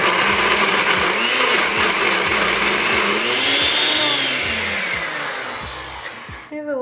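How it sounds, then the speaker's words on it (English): A blender runs steadily, whirring as it purees roasted carrots with evaporated milk, its motor pitch slowly rising and falling before cutting off near the end with a few clunks. "I've added my roasted carrots along with about a half a cup of evaporated milk to a blender"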